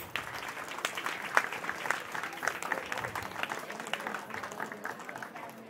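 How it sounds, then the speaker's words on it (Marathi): An audience at a Maghi Ganesh Jayanti festival applauds honoured guests with a steady ripple of clapping. The clapping is fairly distant and quiet and carries on evenly for several seconds. "जोरदार टाळ्या झाल्या पाहिजेत"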